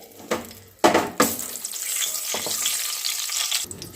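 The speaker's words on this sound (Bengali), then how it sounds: "ভেজে নিচ্ছি 4টে শুকনো লঙ্কা" Four dried red chillies fry in hot oil, with sharp bursts of crackling sizzle and a few clattering stirs, followed by a softer, continuous hiss.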